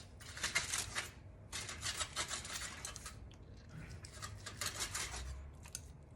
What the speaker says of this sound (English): You can see this beautiful piece of flank steak. Just gonna cut this on the bias.